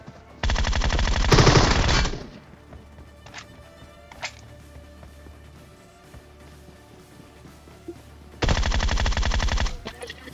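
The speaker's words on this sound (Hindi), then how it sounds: "ये जो मैंने अभी हिप फायर दिया था" Hip-fire gunfire from the video game PUBG Mobile: two loud, rapid automatic bursts, one at the start and one near the end, with a few isolated distant shots in between.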